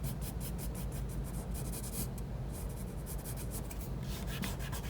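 Pencil shading on paper for a drawing of a calf on a leg, a steady close scratchy rubbing with quick back-and-forth strokes running continuously throughout.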